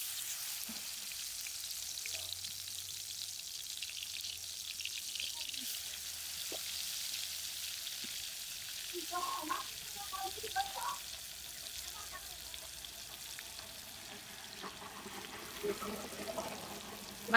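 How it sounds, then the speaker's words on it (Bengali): Fish roe frying in hot oil in a wok, a quiet steady sizzle with soft crackles and spatters throughout, with some stirring and handling noises. "তেলটা গরম হলে মাছের ডিম ভেজে নেব। এই মাছের ডিমগুলো এখন দিয়ে দেব।"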